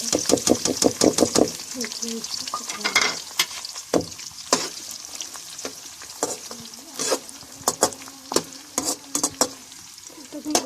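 Onions frying in a kadai for a bhindi fry, a soft sizzle under repeated sharp clicks and scrapes of a spatula stirring against the pan, with a voice talking in between.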